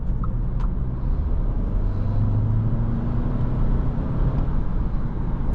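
Inside a 2024 Audi A3 40 Premium on the move, a steady low road rumble and engine drone fill the cabin continuously, with faint tyre hiss and no talking.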